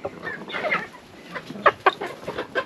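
A farm hen clucks right after laying an egg, a close run of short, uneven clucks with a couple of louder sharp calls.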